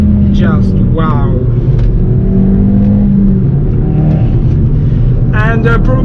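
The turbocharged engine of a Hyundai i20N hatchback pulls hard under acceleration, a loud, steady interior drone and rumble, while someone talks over it throughout.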